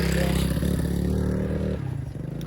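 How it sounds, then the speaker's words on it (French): A motorcycle engine rumbles close by on a street, a steady low drone that shifts and drops in pitch as it passes, heard loudly throughout. "il y a la moto qui va passer"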